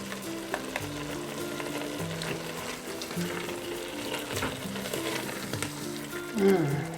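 Onion and garlic fry with soy and oyster sauce in a Ninja Foodi pot, a steady low sizzle with occasional stirring scrapes and a brief louder spatter near the end.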